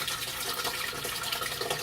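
Pineapple juice pours from a 46-ounce can in a steady, close liquid stream, a continuous splashing gurgle with no talking.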